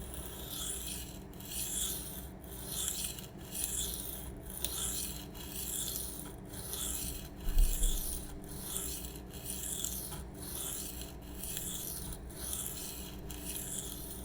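Steady rasping strokes as a Spyderco Sage 5 LW folding knife with an M4 steel blade is sharpened freehand on a stone, each pass repeating at a regular, close, moderately loud pace, with no voices.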